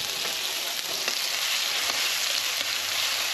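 Half a red onion, chopped, softening in a hot pan for Spanish frijoles malagueños, giving a steady close sizzle with faint crackles throughout and no talking.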